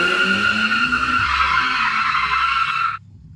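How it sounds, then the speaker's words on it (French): AI-generated sound effect of a car braking hard: a loud, sustained tire squeal with low engine rumble beneath, holding for about three seconds before cutting off abruptly. "une voiture qui s'arrête, qui freine super fort"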